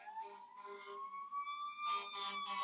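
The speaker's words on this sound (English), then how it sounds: "Here's more sirens." Emergency vehicle sirens wail steadily outside in a long rising tone, with pulsing bursts joining near the end, fairly distant and alone without talk.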